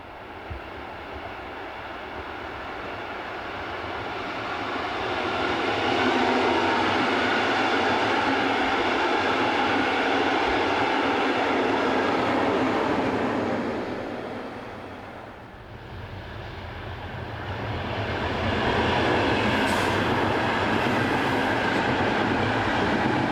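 Electric locomotive 143940 pulling away from a station southbound on a European main line, a loud, sustained rumbling roar of wheels and traction that swells, dips briefly, then builds again as the train passes close by.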